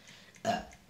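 A single short burp, close and fairly loud, stands out briefly against a quiet background during GTA V Online play.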